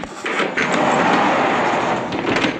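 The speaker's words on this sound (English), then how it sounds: "We're just going to take Diego as we close doors." Horse stall doors in a barn are slid shut, a rolling rumble with a few clunks and knocks, fairly close and continuous for a couple of seconds.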